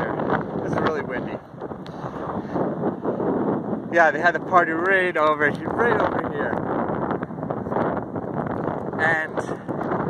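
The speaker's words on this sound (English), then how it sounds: "It's really windy." Strong outdoor wind buffeting the microphone as a steady rushing roar, continuous throughout with someone talking over it.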